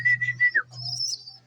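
A young pigeon gives a short call close by, a few thin whistled notes followed by a higher wavering tone over a low steady hum.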